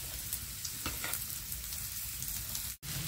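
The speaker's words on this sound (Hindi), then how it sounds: "गाजरें फ्राई हो रही हैं" Carrots frying in a pan, a steady close crackling sizzle with occasional stirring scrapes and a brief dropout near the end.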